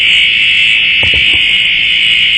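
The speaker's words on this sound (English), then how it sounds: "the fire alarm." A fire alarm sounds loud and unbroken through a public hearing room, a steady piercing tone running the whole time with a few brief low thumps near the middle.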